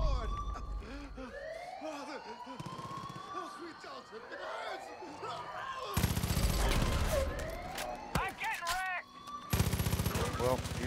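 Gunfire in the video game Far Cry 5, with rapid bursts and sustained automatic fire over a siren-like wail, loud and dense through most of the stretch with brief pauses.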